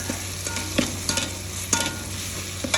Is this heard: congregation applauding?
no